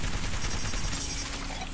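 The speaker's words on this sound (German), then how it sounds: "Ich schieße jetzt erstmal mit Bangalore, bis der Überhitzungsschutz kommt." Bangalore's gun in Apex Legends firing in a continuous rapid automatic burst, loud and close, with no break across the stretch.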